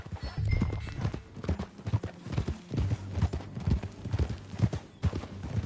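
Horse hooves clip-clop at a steady walking rhythm in the video game Red Dead Redemption 2, close and fairly loud, over a busy outdoor background.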